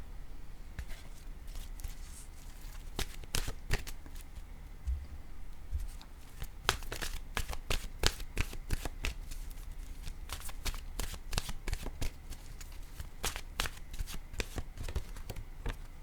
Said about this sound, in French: Je vais piger maintenant une carte de mon oracle de l'âme intuitive.